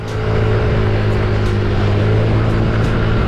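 Honda Vario Techno 110 scooter engine running with a hybrid air filter fitted, a steady close droning hum with strong intake suction and a few brief revving swells.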